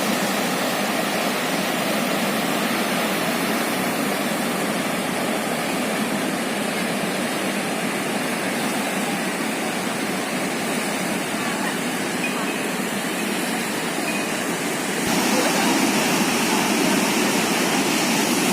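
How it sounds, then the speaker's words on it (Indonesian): Big waves at Ngalor Beach under strong wind make a constant broadband roar of heavy surf, loud and unbroken throughout, with a slight swell in level near the end and no voices over it. "Pantai Ngalor hari ini ombaknya lumayan besar,"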